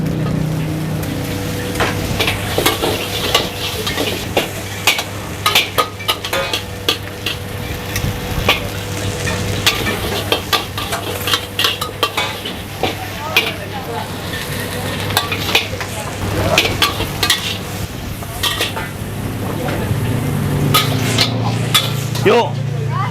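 Loud, continuous sizzling of nasi goreng fried rice frying in a hot wok, with repeated scraping and clinking of a spatula as it is stirred, and occasional voices.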